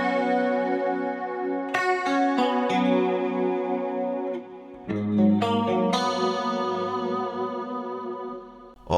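Electric guitar notes and chords through a Fractal Audio Axe FX III ring out with lush reverb and a shimmering, synth-like sparkle on the tail, playing alone, fairly loud.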